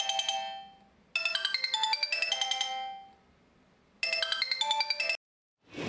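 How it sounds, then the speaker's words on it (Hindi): A mobile phone plays a bright, melodic electronic ringtone in repeated bursts separated by short pauses. The ringing is close and clear with no voices, and it cuts off abruptly near the end. "फोन मिला रही हूँ, फोन नहीं उठा रहा।"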